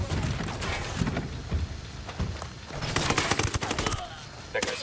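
Rapid gunfire rattles through a firefight in Tom Clancy's Ghost Recon Wildlands on Xbox One, with loud overlapping bursts and automatic volleys crackling almost continuously for a few seconds.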